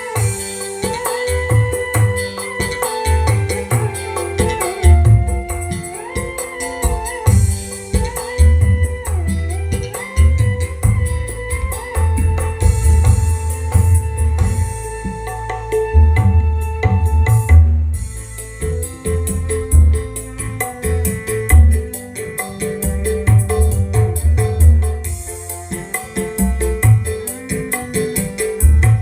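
Music through a subwoofer with bass boosted by a graphic equalizer, deep thumping low end pulsing under a full mix for about half a minute, loud and continuous.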